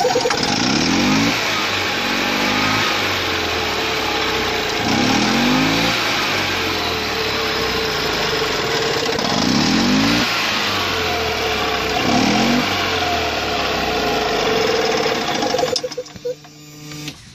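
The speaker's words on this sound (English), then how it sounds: "So let's start it up, I'll show you." A fuel-injected EZGO TXT golf cart with a Robin 295 engine idles steadily, then revs up in several repeated rising bursts, loud and close, before cutting off near the end.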